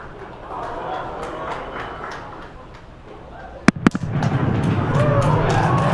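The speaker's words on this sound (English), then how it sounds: "There we just heard sonic booms." Two sharp booming cracks, sonic booms from returning rocket boosters landing after the USSF-44 launch, ring out in quick succession over crowd noise, followed by a swell of loud cheering.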